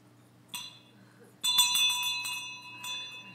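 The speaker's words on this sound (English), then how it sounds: "And then we ring a bell." A hand bell rings during a Lutheran church gathering, one short shake followed by a longer burst of bright ringing that fades gradually, fairly close and clear, with no talk over it.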